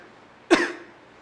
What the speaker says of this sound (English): You can also cough.